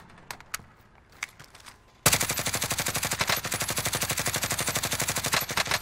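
Rapid sustained gunfire in the battle royale game Call of Duty: Modern Warfare Warzone, loud and close, with dense repeated shots rolling on after a quieter stretch of scattered faint clicks.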